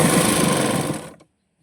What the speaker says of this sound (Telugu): ఇలాగా రివర్స్ తిప్పుకొని స్టిచ్చింగ్ చేసుకుంటున్నాము.